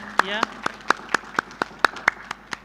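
Scattered, slow claps from a small part of the audience at the University of Nairobi's 69th graduation ceremony. About ten separate, crisp hand claps land at an irregular beat, with a speaking voice heard briefly at the start.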